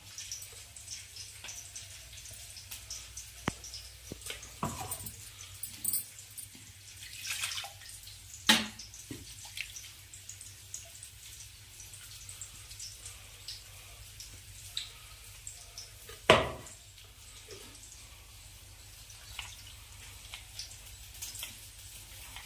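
Sparse, faint drips and small splashes over a low steady hiss, with a few sharper taps scattered irregularly.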